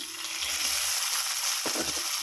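Green peas dropped into a pan of onions frying in oil: a loud, steady, close sizzle with a brief clatter and stir partway through.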